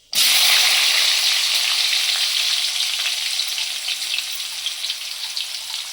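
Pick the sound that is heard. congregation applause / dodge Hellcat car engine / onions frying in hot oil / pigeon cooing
onions frying in hot oil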